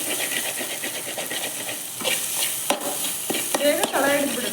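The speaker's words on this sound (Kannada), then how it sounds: "ಬೇಗ ತಳ ಹಿಡಿದ್ಬಿಡುತ್ತೆ, ತಿರುಗಿಸ್ಕೊತಾನೆ ಇರಬೇಕು" A spoon stirs kadlekalu usli, a chickpea curry, in a hot pan, with soft scraping strokes over a steady background sizzle and a few louder clinks near the end.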